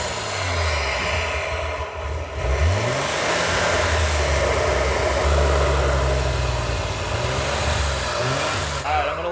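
A running BMW engine, with water being poured into it to clean the pistons, revs up hard close by. The pitch sweeps upward once, then holds a loud, rough, sustained drone with a strong vibrating hum.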